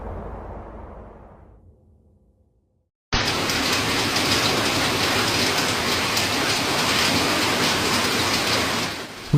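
Heavy rain driven by strong wind pours over Sukabumi, West Java, starting after a quiet fading passage and then roaring as a loud, constant, dense downpour.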